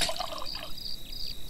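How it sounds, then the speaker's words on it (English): Water pours in the Lakeview Cabin flash game, a short trickling, splashing burst with a thin high tone underneath, heard alone for about a second and a half. "Water."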